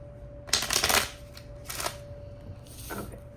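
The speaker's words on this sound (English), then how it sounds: "I'm going to shuffle the rest of these one more time." Tarot cards are shuffled close by in three crisp, riffling bursts, the first loudest, with quieter pauses between them.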